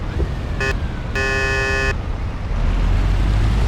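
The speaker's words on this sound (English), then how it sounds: "you should warn them by sounding the car horn" A car horn in the Mafia video game honks twice, a short blast then a longer held one, loud over steady traffic and engine rumble.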